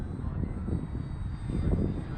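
A trainer RC model airplane's engine drones steadily at a little over half throttle through an Immelmann, a loop topped by a roll, with a continuous low rumble that swells slightly toward the end.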